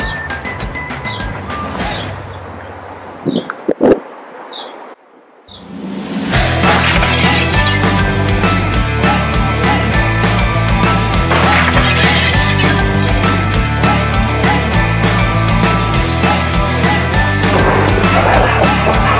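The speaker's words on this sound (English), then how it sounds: "Throw a real rock in this glass." A heavy real rock is thrown through century-old window glass, with a few sharp knocks and thuds before a brief hush, then a loud burst of shattering followed by a long, dense stretch of crashing and clattering debris.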